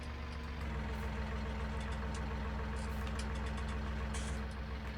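Tractor engine idling in Farming Simulator 19, a low steady rumbling drone with an even, unchanging pulse, moderately quiet and continuous throughout.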